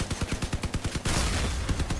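Vehicle-mounted guns fire in the Crossout combat game in a rapid, evenly spaced burst of close, punchy shots, then merge into a dense roar of continuous gunfire and impacts before a few separate shots return.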